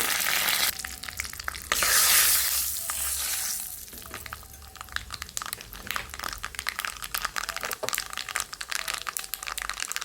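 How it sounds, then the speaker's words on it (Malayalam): Mustard seeds hit hot cooking oil with a loud hiss, then settle into a steady frying sizzle dotted with sharp crackles and pops, close up with no talking. "എണ്ണ ചൂടായിട്ടുണ്ട്, കടുക് ഇടുകയാണ്."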